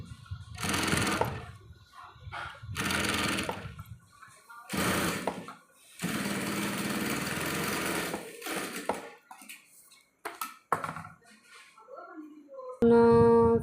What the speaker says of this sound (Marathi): स्टिच कर.